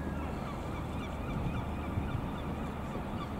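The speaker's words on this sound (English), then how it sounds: "Got all the swans there." Swans give soft, low honking calls at a distance, quiet and continuous over a steady outdoor rumble, with no speech.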